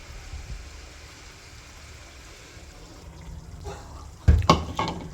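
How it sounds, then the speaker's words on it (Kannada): Water splashes and trickles in a short burst after a quiet stretch, close by, poured into ground masala before grinding. "ಈಗ ಇದಕ್ಕೆ ಸ್ವಲ್ಪ ನೀರು ಹಾಕ್ಕೊಂಡು ರುಬ್ಕೊಳ್ಳೋಣ."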